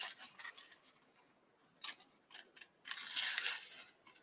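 Scissors snip through sprigs during a bird and butterfly paper craft, a handful of close, crisp cuts and rasping blade scrapes, with quiet gaps between them and a longer rubbing cut near the end.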